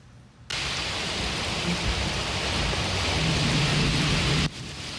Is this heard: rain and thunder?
yes